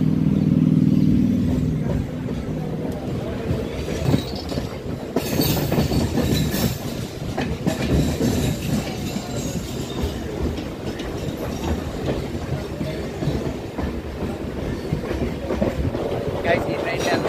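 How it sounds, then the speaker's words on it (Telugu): A MEMU passenger train runs on rails from Rayanapadu toward Kondapalli, a steady rumbling roll with rhythmic clicks of wheels over joints, heard from inside the coach as people talk over it. "మన ట్రైన్ రాయనపాడు నుండి అయితే బయలుదేరిపోయింది."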